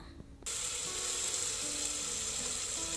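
Brinjal pieces sizzle in hot oil in a pan as part of a cowpea (bobbarla) pulao, a steady loud hiss starting abruptly after a quiet moment and continuing without pause.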